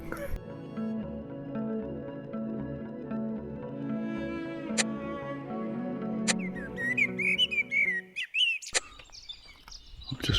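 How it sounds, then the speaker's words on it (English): Wild parrots and galahs call at a bush campsite in the morning, with sharp whistled chirps and screeches coming in toward the end after a stretch of steady tonal music. "the first thing I heard was just parrots. Everywhere the place is just filled with birds."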